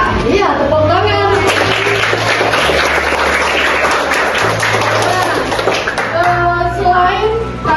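Schoolchildren clap their hands together in a classroom during a lesson on local place names, a steady rattle of claps running the whole time beneath overlapping young voices.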